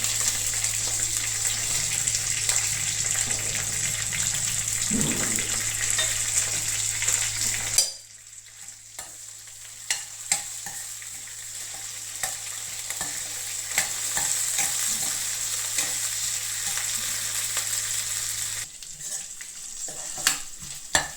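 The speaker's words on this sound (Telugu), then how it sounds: "నూనె మరిగిన తర్వాత తాలింపు వేస్తాను." Steady sizzling and crackling of mustard seeds, cumin and curry leaves frying in hot oil, close up, with a sharp hiss at the start that settles into a softer sizzle.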